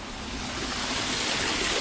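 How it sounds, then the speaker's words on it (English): Waterfall at the Erie Zoo, a steady broadband rush of falling water heard up close and fairly loud, continuous with no pauses and no voices. "So there's the waterfall."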